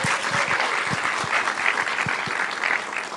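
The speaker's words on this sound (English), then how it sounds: "Marianne, clap it up for Marianne." An audience claps steadily for a participant at a charitable campaign kickoff event, a dense, continuous round of applause with a few sharper individual claps standing out.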